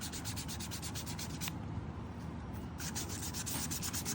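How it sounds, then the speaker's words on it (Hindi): Coarse 340-grit sandpaper rubs continuously across leather, making a dense, even scraping that carries on unbroken from start to finish. "सबसे पहले आपने मोटे वाला रेगमाल लगा देना है इसको इस तरह करके"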